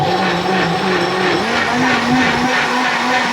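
A blender shifted up to a higher speed while mixing raw beetroot, producing a loud, steady motor whine with a rising pitch partway through, continuous and close for the whole stretch.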